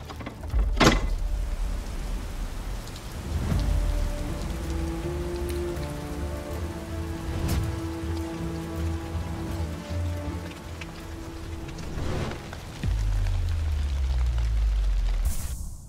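Steady rain falls outside in the garden of an abandoned villa, a dense, even patter that continues throughout with a faint mechanical whir and a few dull knocks.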